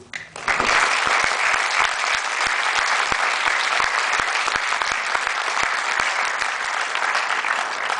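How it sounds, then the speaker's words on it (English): A roomful of people applauds the sponsors at a university prize ceremony, steady dense clapping starting abruptly and holding loud and even for several seconds, with no voices over it. "would you please join me in a round of applause for the sponsors"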